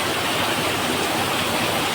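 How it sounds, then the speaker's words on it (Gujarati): Heavy downpour drumming on tin roof sheets, a dense, steady roar of rain hiss filling the whole clip with no breaks. "અંદરાધાર વરસી રહ્યો છે"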